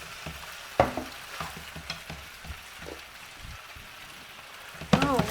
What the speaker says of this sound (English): I'm just going to stir these, get this butter all in here.